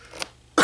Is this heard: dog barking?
no